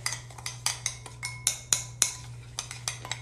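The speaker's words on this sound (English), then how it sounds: "And you mix it with the sugar and the coffee." A spoon scrapes and clinks steadily in a bowl while sugar and coffee are stirred together, making a quick, regular rhythm of close, bright taps against a faint low hum.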